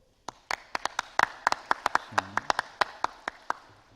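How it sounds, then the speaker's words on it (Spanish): Sparse applause from a welding conference audience: a handful of crisp, separate claps in a steady rhythm, with a brief low murmur of voice partway through. "recibimos al doctor Cristian Loaiza con un fuerte aplauso"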